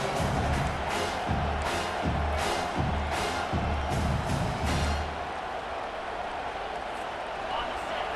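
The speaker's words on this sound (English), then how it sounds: "This crowd bringing the energy and noise early." A football stadium crowd roars steadily under a commentator's voice, with rhythmic bursts and a broad wash of cheering that eases off toward the end.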